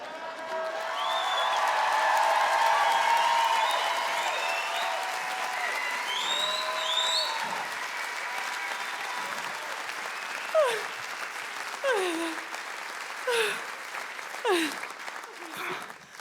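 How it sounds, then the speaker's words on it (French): A theatre audience applauds steadily through a French comedy-music show, loud dense clapping that slowly thins, with a few scattered cheers and vocal whoops rising toward the end. "On applaudit la dame qui a chanté avec moi."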